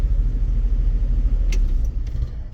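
A car runs steadily nearby with a low, even engine rumble and no break in the hum; a couple of faint clicks sound briefly over it.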